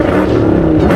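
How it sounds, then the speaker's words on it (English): Dodge Hellcat engine revving hard up close, a single loud, deep, continuous roar that fills the short moment. "Give Marco a couple revs behind me"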